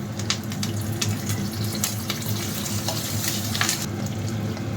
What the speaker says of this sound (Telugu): ఇవన్నీ వేగనిద్దాం కరివేపాకు వేసుకుందాం